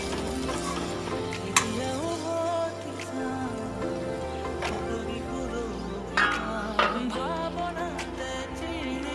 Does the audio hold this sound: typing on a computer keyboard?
no